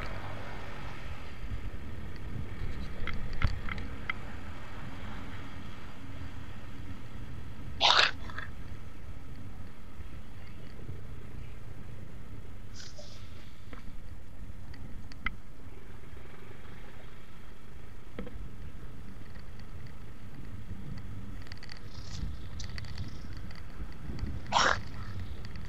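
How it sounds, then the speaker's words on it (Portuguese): Strong wind buffets the microphone during a ride on a small 50cc Shineray motorcycle, giving a constant low roar, with a few brief sharp noises cutting through. "você disse como é que tá ventando aqui, fica difícil"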